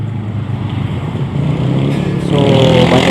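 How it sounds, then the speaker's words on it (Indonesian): Motorcycles riding along a city street in Gorontalo, a continuous close engine drone that swells louder as more bikes pass, with traffic rumble underneath. "So banyak motor di jalan ya."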